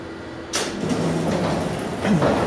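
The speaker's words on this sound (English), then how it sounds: "I'm going to close the door." A freight elevator door slides shut with a sudden loud rumbling scrape, then a sustained rolling rattle and a final clunk as it settles closed, nearby and alone.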